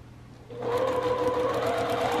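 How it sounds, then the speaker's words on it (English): A sewing machine starts up after a brief quiet moment and runs at a steady fast whir while stitching a quarter-inch seam on quilt pieces, close and continuous to the end. "Now I'm going to be doing my quarter inch seam with one set of two"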